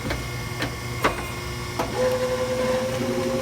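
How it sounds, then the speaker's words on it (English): A tire changer machine forces a Goodyear RSA tire off its wheel rim, with a few mechanical knocks and clunks followed by a steady, close-up motor whine. "you're going to use the machine's power to force that tire out"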